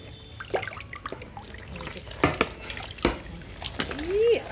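Shower water pouring over a baby at bath time, an irregular splashing and trickling with small splats and drips, fairly close, while voices talk softly around it.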